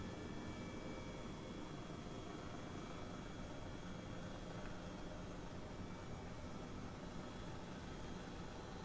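An aircraft engine in Microsoft Flight Simulator drones as a steady, dense, unbroken roar that holds at an even level throughout, with no talk over it.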